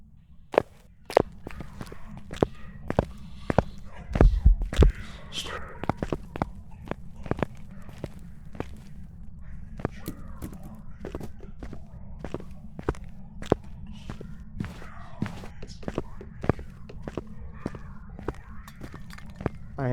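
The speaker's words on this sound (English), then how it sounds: "I can hear his footsteps pretty easily" Ghost footsteps during a hunt in the horror video game Phasmophobia: a long run of sharp, evenly spaced thuds, fairly loud and close, continuing steadily with a low hum underneath.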